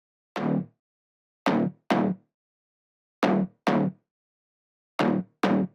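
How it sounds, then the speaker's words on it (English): Short, punchy slap house synth pluck bass in a syncopated pattern, seven notes with quick decays and clean silence between them. "The last one is a pluck bass used in slap house."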